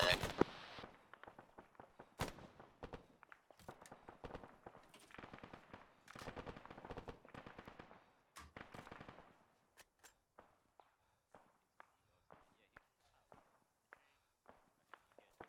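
Arma 3 combat on the Livonia map, rapid bursts of automatic gunfire and scattered single shots crackling at varying distances, dense at first then thinning to sparse isolated reports, with occasional voices.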